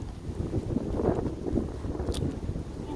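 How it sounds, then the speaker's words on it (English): Wind buffets the microphone in low, uneven rumbling gusts, with a faint short rattle partway through. "it's so windy right now"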